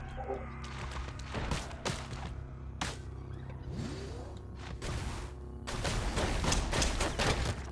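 Hostile turrets in the game Caves of Qud fire repeated sharp shots in irregular bursts, the blasts growing denser and louder toward the end, with no voices over them.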